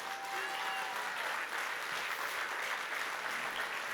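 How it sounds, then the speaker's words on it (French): Steady, dense applause fills a hall at a political rally in Montreuil, a close, even wash of clapping from a large audience lasting throughout. "Vous pouvez les applaudir vraiment hyper fort."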